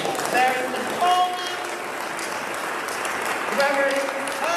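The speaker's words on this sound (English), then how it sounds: "let's give a round of applause to all of our performers" Applause for the performers at a gospel music festival, a steady spread of clapping with a few voices calling out over it.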